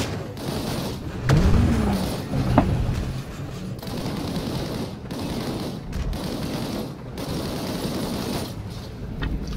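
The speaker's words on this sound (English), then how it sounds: "Engage the enemies ahead using your primary weapon." Primary weapon gunfire in the sci-fi shooter Disintegration, bursts of rapid shots over a steady engine-like hum, moderately loud, with a brief whooshing tone early on.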